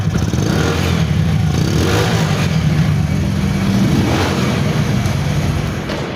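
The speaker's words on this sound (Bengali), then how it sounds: "শুধু সাইলেন্সারের মুখ দিয়ে যে আওয়াজটা বের হবে সেই অবস্থায় আছে।" A Bajaj CT 100 motorcycle idles steadily, its exhaust droning from the silencer with a low, even rumble that stays loud and close throughout, with no talk.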